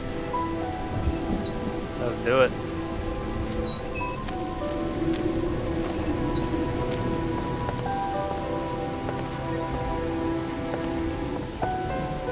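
Steady rain falls in the King's Quest video game as a constant hiss across the scene, with a soft rumble and scattered small ticks and tones, and a voice speaks briefly.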